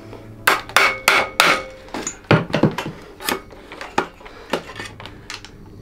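Sledgehammer blows pounding a mountain bike headset into place, a rapid series of loud, sharp metallic strikes in irregular bursts with clanging ring between hits.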